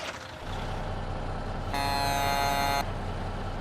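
A video-game Peterbilt 379 truck engine idles with a low rumble, then a loud bright train-style horn blast cuts in for about a second before the engine carries on alone.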